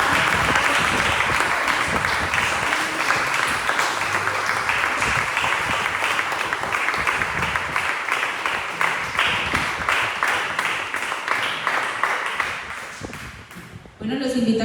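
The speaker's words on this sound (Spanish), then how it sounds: "Denle un fuerte aplauso al Señor." A church congregation bursts into loud, sustained applause during a Spanish-language worship service, dense clapping from many people that carries on for a long stretch before tapering off, with a few voices mixed in.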